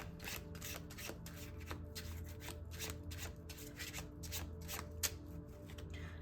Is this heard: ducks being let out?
no